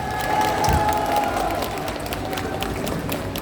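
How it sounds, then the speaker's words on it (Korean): A large outdoor election rally crowd near a train station applauds in the rain, a steady, dense wash of clapping and crowd noise that holds at an even level throughout, with a faint voice briefly audible. "여러분 큰 박수로 맞아주십시오"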